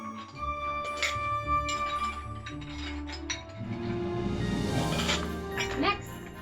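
Ice cubes clink against glass while a martini is being made, the rattling knocks repeating through the clip beneath steady background noise and tones.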